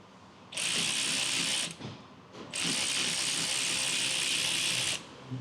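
Ratchet wrench with a 12 mm socket loosening a rear brake caliper bolt on a 2011-2017 Honda Odyssey, two loud, close, steady bursts of rapid clicking separated by a short pause.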